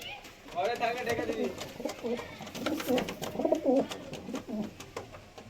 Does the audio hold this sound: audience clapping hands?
no